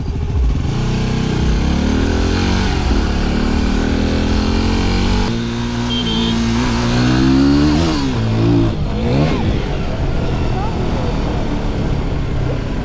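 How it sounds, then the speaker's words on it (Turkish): A Yamaha WR250R supermoto's engine burbles and revs with a steady exhaust rumble, fairly loud and close, with a voice talking over it. "Egzoz sesi fıtı fıtı"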